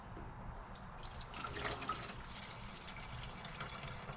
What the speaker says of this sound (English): And now I'll place some water in here,